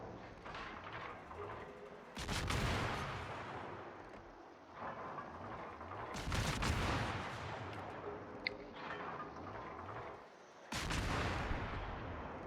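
Cruiser Worcester firing shells at the battleship Napoli in a naval video game, with heavy booming salvos landing every few seconds, each a loud blast rumbling off over a continuous low engine-like drone.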